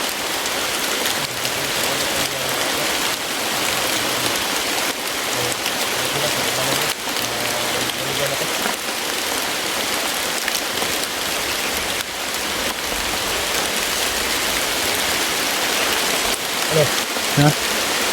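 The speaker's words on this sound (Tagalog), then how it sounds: "sobrang lakas ng ulan" Heavy rain pours down steadily, a dense, loud hiss of drops hitting surfaces nearby that continues unbroken, with occasional faint voices underneath.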